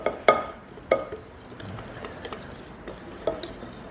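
Eggs and powdered sugar are stirred together in a bowl, with a utensil knocking the rim in a few sharp clicks over a steady, soft scraping swish. No talk.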